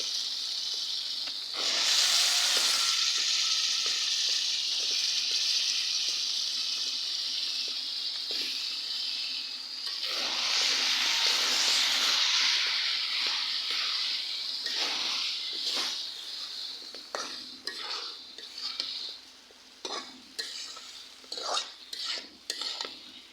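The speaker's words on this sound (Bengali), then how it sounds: "আমি এখন সরিষা আর হলো সিম দিয়ে কষাইতেছি।" Flat beans with ground mustard paste hiss and sizzle in a pan while being stirred, with bursts of strong frying and then a run of sharp scraping stir strokes and utensil clinks, close with no talk.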